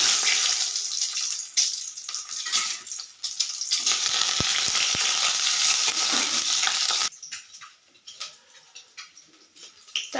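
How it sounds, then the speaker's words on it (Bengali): Eggs dropped into hot oil in a wok give a loud, hissing sizzle with stirring that runs for about seven seconds, then falls abruptly to a quieter, uneven crackle. "তেলটা গরম হয়ে গেছে, এবারে ডিমগুলো দিয়ে দিলাম।"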